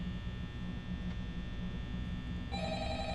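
A telephone rings inside the Five Nights at Freddy's video game, a steady electronic ring tone over a constant low hum that brightens into a sharper tone near the end.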